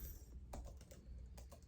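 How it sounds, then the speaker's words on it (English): Faint, quick key taps come from someone typing on a computer keyboard, a few scattered clicks over a dense, steady background rumble. "I'm typing."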